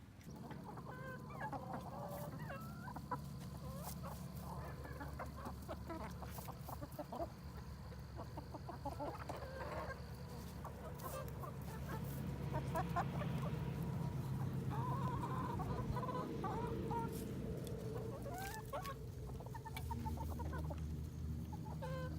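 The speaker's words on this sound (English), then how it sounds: "I just fed the chickens" Freshly fed backyard chickens, a rooster among them, cluck and murmur steadily at a moderate distance, with low overlapping calls and scratching over a constant outdoor background and no talking.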